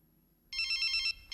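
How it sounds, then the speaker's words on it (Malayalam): A telephone suddenly rings in a classroom, a loud electronic trill lasting about half a second, pausing briefly, then starting again, with no talk over it. "Whose phone is that?"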